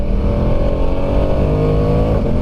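A 2022 Ducati Diavel 1260S Black and Steel motorcycle pulls hard in second gear, its engine note holding a loud, steady, rising drone close by with no talk over it.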